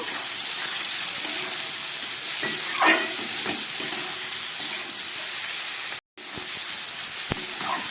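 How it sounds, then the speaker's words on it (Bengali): Fried prawns and potato being sautéed with spices in a pan for a prawn and poppy-seed curry, giving a steady sizzle with light stirring scrapes and a brief break near the end. "দিয়ে একটু মশলার সঙ্গে কষিয়ে নেব।"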